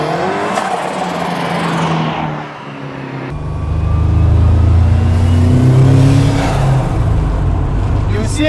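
Cosworth-engined Triumph TR6 revving hard with its rear wheels spinning, a loud, close engine roar that climbs in pitch with tire noise, while people talk nearby.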